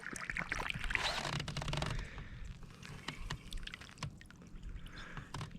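Water from a garden hose barely trickling into a rooftop pipe during a leak check, a soft uneven splashing and dribbling heard up close with faint outdoor ambience and no talk.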